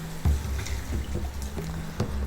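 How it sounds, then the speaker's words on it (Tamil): Dissolved tamarind water poured into a pan of tomatoes for Chettinad garlic kuzhambu, giving a brief close splash and liquid trickle with a few light drips. "இப்போ நம்ம கரைச்சி வச்சுருக்கிற புளியை இதில் சேர்த்துக்கலாம்."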